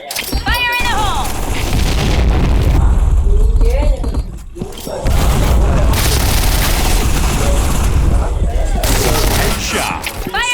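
A grenade blast in a tactical shooter booms loud and close amid a steady wash of gunfire and battle noise, with voices chattering over the action.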